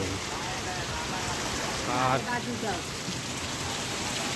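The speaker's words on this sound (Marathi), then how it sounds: "खूप जोरात पाऊस येतो" Heavy unseasonal rain pours down in Konkan in a steady, loud hiss that fills the whole clip, with a brief faint voice rising in the middle.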